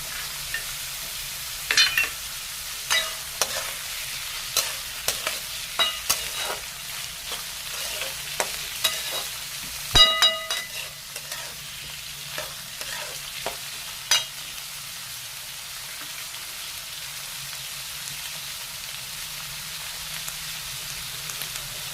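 Black peas being sautéed in a pan with cooked toor dal, with a soft steady sizzle and frequent scraping stir strokes from a spoon, close and fairly quiet, no talking.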